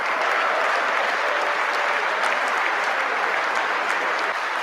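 Crowd applause during a political speech, dense and continuous clapping from a large audience that holds an even level from start to finish.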